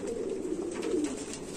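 Sheikho-breed pigeons coo in a steady low murmur, close by and continuous, with no talking over them.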